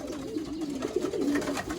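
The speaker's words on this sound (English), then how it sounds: "there's some of my young white birds that I had gotten" Young white racing pigeons coo in a steady, low murmur that runs throughout, close and continuous.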